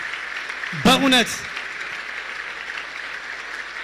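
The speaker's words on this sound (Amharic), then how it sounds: "አንድ ጊዜ ለመጨረሻ አጨብጭቡላትና ቴንኪው እንላታለን" Sustained applause from an audience at a farewell for the gospel singer Misir, a steady wash of clapping throughout, with a short spoken voice over it near the start.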